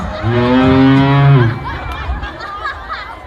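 A live cow gives one long, loud, close moo lasting over a second. Afterward, people chatter and laugh softly in the background.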